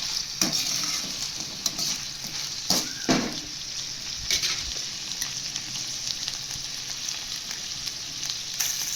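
Paneer fried rice is stir-fried in a pan, with a soft, constant sizzle under scattered scraping and clinking spatula strokes, some sharper knocks near the start, fairly quiet and with no voices.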